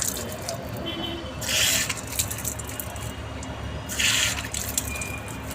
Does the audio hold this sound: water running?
yes